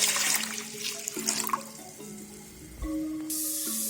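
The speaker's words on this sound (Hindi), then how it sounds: "अब हम पैन में पानी डालेंगे" Water poured into a cooking pan on a lit stove while preparing sarson ka saag, a steady close splashing and trickling pour that shifts in pitch as the pan fills.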